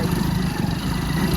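A Bullet motorcycle engine drones loud and steady at close range while riding on a rough rural road, a low continuous rumble without breaks.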